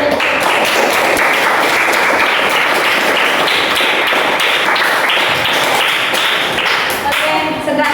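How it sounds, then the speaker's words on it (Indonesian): Classroom full of students clapping for their classmates during a maths lesson, a dense, loud patter of many hands lasting throughout and tapering slightly at the end. "Tepuk tangan untuk teman-temannya yang sudah berada."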